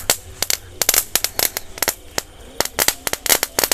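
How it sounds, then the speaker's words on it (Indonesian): A crackling fountain firework burns during Lebaran celebrations, throwing out rapid, irregular sharp pops and crackles that come close and loud in dense bursts. "Air mancur kretek guys."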